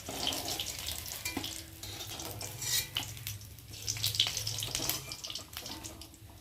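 Chili chicken pieces frying in hot oil in a pan, a steady close sizzle with scattered clinks and scraping as pieces are lifted out.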